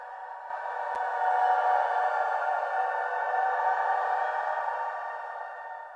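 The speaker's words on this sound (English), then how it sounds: "here's a sample of classical voices that I have sampled and mixed together" Layered choir-like voices hold a sustained, airy chord washed in reverb, steady and moderately quiet, swelling gently before fading slightly.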